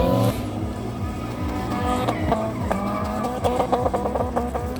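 A gold twin cam race car at the King of the Cone hillclimb roars past close by at high revs. The engine note sweeps through rapid gear changes and a tire squeal, loud and alone.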